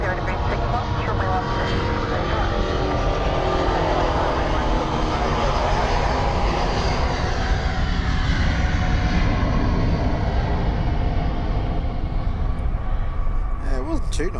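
An Airbus A350 jet takes off from a runway at Melbourne Airport, a sustained loud roar of engines at full thrust with a shifting whine, steady throughout, with people talking nearby.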